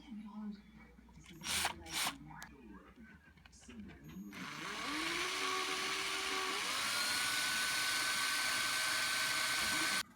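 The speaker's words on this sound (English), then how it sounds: "drilling in the little hole" Some handling noises and scraping come first, then a small high-pitched drill whines steadily and close up for several seconds, drilling a small hole in a Funhouse pinball machine ramp, before cutting off.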